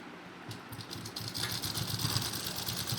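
A sewing machine runs a doubled line of stitching along the seam of a men's underwear garment, a steady, fairly quiet mechanical whir with rapid needle ticking that picks up slightly after the first second, with no talk.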